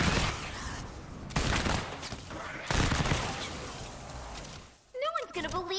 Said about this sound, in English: I love the 8 bursts of this weapon